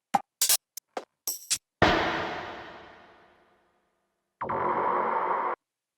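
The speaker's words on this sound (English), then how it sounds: "a loop of a couple percussion hits with reverb" A handful of sharp percussion hits in quick succession, then a big hit with a long reverb tail fading out, followed by a sustained noisy burst.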